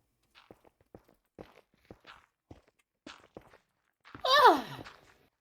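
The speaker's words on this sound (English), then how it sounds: "I needed to yawn." A drawn-out vocal yawn near the end rises to a strained, groaning peak and tails off, after a few light soft taps and shuffles, close and fairly loud.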